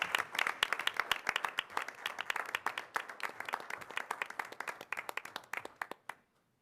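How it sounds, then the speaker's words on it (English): Audience members clap at a city council meeting in Iowa City, a brisk run of close crisp hand claps that keeps an even pace and then stops abruptly into silence. "we'll give them all a big round of applause"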